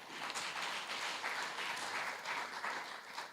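Faint, dense applause from a conference audience clapping for panelists at a regional think tank, a steady wash of many hands with no voices over it.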